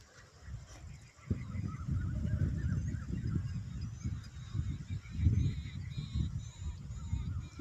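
Peacocks in a groundnut field give a run of loud, repeated honking calls that carry over outdoor background noise, with faint voices at times.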